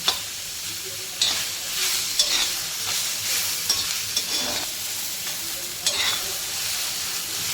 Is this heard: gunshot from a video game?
no